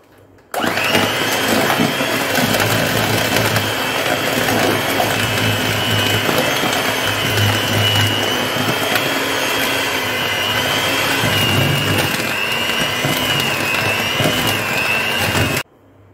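An electric hand mixer whirs steadily for about fifteen seconds as cake batter with baking powder is beaten, the loud motor drone starting and stopping abruptly with no talking.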